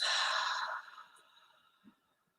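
One deep breath, a long airy exhale that starts strong and fades into quiet, close and alone.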